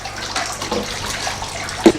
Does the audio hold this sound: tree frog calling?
no